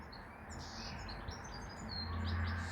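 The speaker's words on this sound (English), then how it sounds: "Can you hear that? Goldfinches." Faint, high chirping and twittering of goldfinches in the distance over a steady outdoor rumble in a UK spring garden.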